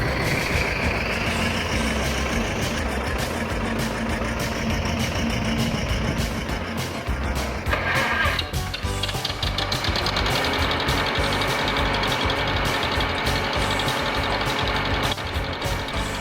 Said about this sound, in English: he's driving a 1948 John Deere Model R. It's a diesel.